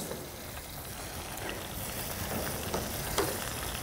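Fish chupín stew with potatoes simmering and being stirred in a pot, a continuous sizzling bubble with a few soft scraping clicks from the spoon, close and fairly even.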